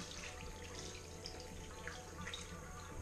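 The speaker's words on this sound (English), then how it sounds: "I'm gonna wash my hands" A bathroom tap runs steadily while hands are washed, giving a faint continuous hiss of flowing water with small splashes and drips, no voices.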